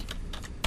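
Computer keyboard keys clatter in a few quick clusters while setting up a Debian 10 server, close and moderately loud, ending in a heavier thump on one key.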